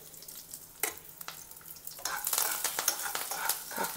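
Curry leaves and finely chopped garlic fry in a pan for Mangalore-style chicken sukka, giving a crackling sizzle with scraping stirs that grows busier and louder in the second half, with no voices.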